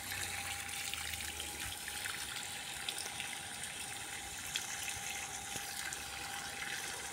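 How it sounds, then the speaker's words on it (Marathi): Water pouring and gushing steadily from a pipe onto garden plants and seedlings, a continuous close rush with no voices. "पाणी टाकायला यांना मजा वाटते."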